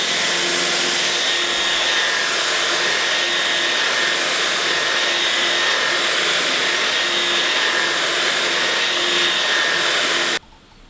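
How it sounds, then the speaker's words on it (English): Belt sander running steadily on a wooden floor surface inside a shipping container house, a loud continuous whine and grinding drone that holds for about ten seconds before cutting off abruptly near the end. "so I cleaned up the surface with the belt sander."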